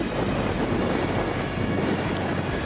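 Wind gusting down a valley during a bike ride, a steady broadband rush buffeting the microphone throughout with low rumble and no voices.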